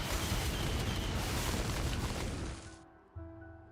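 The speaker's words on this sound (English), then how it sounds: "this one explosion didn't have enough power to actually get rid of him" A loud, broad video game explosion roars and rumbles for a couple of seconds, then decays into a quieter tail with a few faint thuds afterward.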